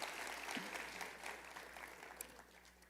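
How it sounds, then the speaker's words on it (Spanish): Church congregation applauding actors after a performance, a faint, distant spread of many hands clapping with a low hum underneath, steady for a few seconds then thinning slightly. "Un aplauso para estos tremendos actores, los José."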